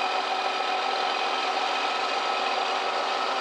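A big old Terex twin-engine scraper weighing about 92,000 pounds, apparently with straight 671 diesels, idles steadily with a constant even drone and a fixed mechanical hum throughout.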